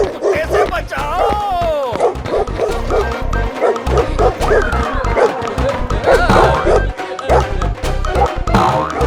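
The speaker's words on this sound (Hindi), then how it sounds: "अरे कोई मुझे इस कुत्ते से बचाओ!" A cartoon dog in a Jagannath animation barks repeatedly in quick, yappy bursts mixed with yips and whimpering whines, loud and close, while a voice cries out over the barking.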